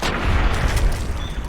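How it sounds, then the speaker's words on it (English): A man exploding in a video game, a loud booming blast with dense low rumble that stays heavy and sustained for over a second. "That man exploded"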